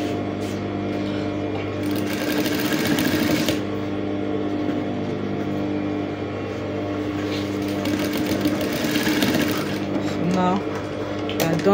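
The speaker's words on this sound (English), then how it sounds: "Done sewing this now" A sewing machine stitches boning onto a dress, its steady, loud mechanical whir running close and continuous, with a voice talking over it at moments.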